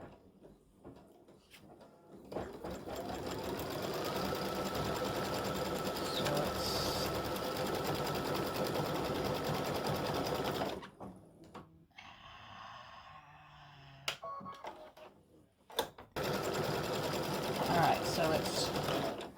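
An embroidery machine stitching a tack-down stitch on beard fabric for an appliqué gnome design, a rapid steady buzzing chatter that runs for several seconds, stops, then resumes, with quiet handling sounds in the pause.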